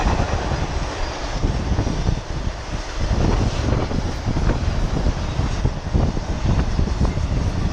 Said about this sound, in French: Je ne sais pas combien il y a de wagons, vous allez peut-être me le dire.